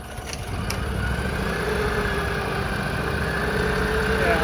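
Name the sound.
Argo 8x8 ATV engine idling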